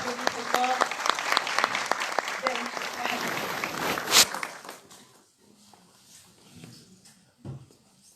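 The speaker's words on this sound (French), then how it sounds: "On applaudit très fort." Audience applause at a university excellence awards ceremony during a prize handover, a dense burst of clapping with voices mixed in, swelling to a loud peak, then cutting off abruptly into quiet room noise with faint murmurs.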